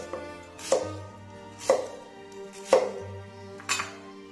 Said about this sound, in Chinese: 雪梨要把它处理一下，把梨心和蒂给它去掉，切成小块